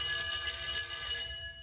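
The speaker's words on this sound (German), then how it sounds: "das sind diese komischen Standuhren da. Die so bimmeln" A grandfather clock chimes in the horror video game Ghost Exile, a bright ringing bell tone sustained with a rapid metallic shimmer, loud and close, then fading out.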